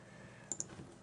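A computer mouse gives a quick double click, two sharp, close, bright taps a fraction of a second apart against a quiet room background.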